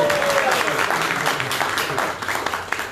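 A crowd at a 1 Million Cups gathering in Daytona Beach claps in a full, steady round of applause that tapers slightly toward the end, with some voices mixed in.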